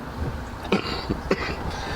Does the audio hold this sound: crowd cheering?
no